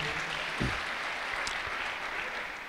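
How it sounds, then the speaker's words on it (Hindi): Audience clapping at a religious gathering in Mathura, a continuous, even roar of applause from a large crowd with no voices on top. "हृदय से जोरदार तालियों से यहाँ की बहुत ही लोकप्रिय सांसद"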